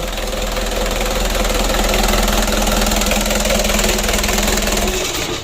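A rebuilt 120 PS Mitsubishi 4D34 diesel engine runs at a steady idle, with an even, continuous rumble and a fast mechanical clatter throughout at close range and fairly loud level.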